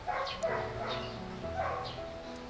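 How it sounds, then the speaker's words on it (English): A neighbor's dog barks and yips several times at a moderate distance, with short cries spaced irregularly over a faint background hum. "that's the neighbor's dog barking again"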